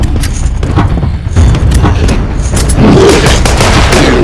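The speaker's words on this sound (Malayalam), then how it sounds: "ഒരു വെടിയും കൂടി വെച്ചോ കേട്ടാ." Gunfire booms from a zombie shooter video game, with several loud shots and dense, rattling bursts over a constant heavy rumble, close and very loud throughout.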